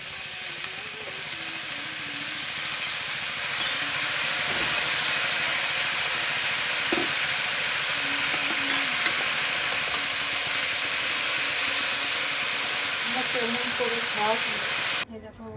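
Spinach sizzles and hisses steadily in a hot pan, a constant frying crackle with occasional stirring clinks, while someone talks over it.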